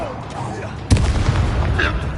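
A sharp, loud Expelliarmus spell impact in the Hogwarts Legacy video game lands as a sudden boom-like burst, followed by a rumbling tail under game voices.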